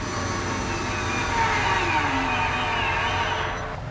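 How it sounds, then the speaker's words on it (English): A power drill driving pocket hole screws into the upper rail of a chestnut armoire frame whines steadily and loudly, its pitch shifting slightly as the screw seats, then easing off at the end. "he'll apply the remaining pocket hole screws to the upper rail."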